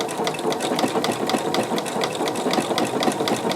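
A foot-pedal sewing machine stitches appliqué in a steady, fast, close mechanical whir with a rapid rhythmic chatter of the needle.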